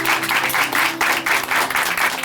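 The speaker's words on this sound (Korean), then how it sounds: "다시 한번 큰 박수 보내드릴게요." Congregation applause at Chuncheon Hanmaum Church closing a testimony program: a dense, steady wash of many hands clapping that fills the whole stretch at a fairly loud, even level.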